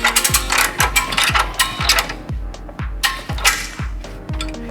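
A ratchet strap is cranked to tighten a gas dryer onto a dolly, giving loud, close, rhythmic clicking bursts in a steady repeated pattern.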